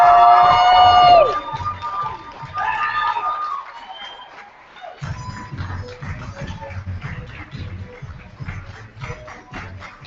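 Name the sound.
audience applause and cheering for poet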